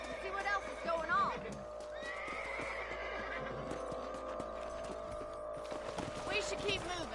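Horses whinnying with hoofbeats clip-clopping in the Red Dead Redemption video game, with overlapping speech from game characters over a steady background bed; whinnies stand out near the start and end.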